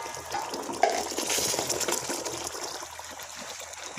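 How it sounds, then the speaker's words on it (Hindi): Water is poured into a pan of cooking mutton kofta, a steady splashing trickle with a bubbling hiss that holds for a few seconds and slowly eases off, with no talk. "अभी थोड़े से पक गए हैं तो इसमें थोड़ा पानी डालेंगे।"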